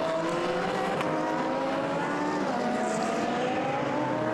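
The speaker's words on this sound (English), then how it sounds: "there is Daniel Lloyd in the Motorbase run Aston Martin, threading his way out of the chicane now" The Motorbase-run Aston Martin GT car accelerates out of the Monza chicane in free practice, its engine note climbing through the gears, loud and close, alone without commentary.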